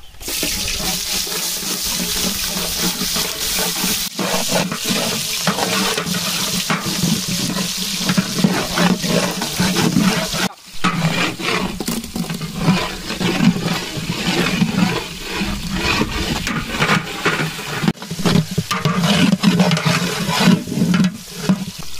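Cinnamon and other whole spices with onions fry in hot oil for a village-style chicken leg biryani, a steady, loud sizzling hiss that runs unbroken with no talking.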